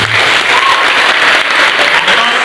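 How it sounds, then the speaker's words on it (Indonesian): A school opening-day assembly applauds as the agriculture teacher is introduced, a brief burst of loud, dense clapping from a large crowd of students. "Tepuk tangan untuk pertanian"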